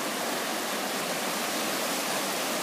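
The Rifle River rushes past in a loud, continuous roar of moving water, steady and close with no other sounds.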